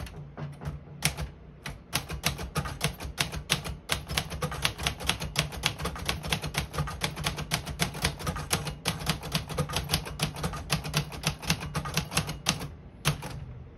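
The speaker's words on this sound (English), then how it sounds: "Let's go with red and type a sentence." Rapid, steady keystrokes clatter on a 1951 Royal Quiet Deluxe portable typewriter, close and loud, with a continuous run of sharp mechanical clicks and brief pauses for nearly fourteen seconds, no voices.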